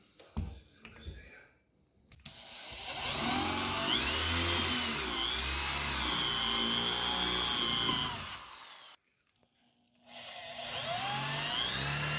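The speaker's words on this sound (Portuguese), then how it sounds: "E agora eu vou fazer as furações correspondente aqui onde as bolinhas podem cair, né? Lembrando que eu estou usando aqui uma broca Foster" A drill bores holes in a wooden maze toy with a Foster bit, its motor whining loud and steady for several seconds, pausing briefly, then starting again, after a few soft knocks at the start.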